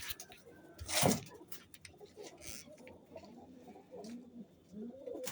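A paired male and female pigeon perched together on a cot give faint, low coos in the latter half, after one sharp knock near the start, in a quiet setting.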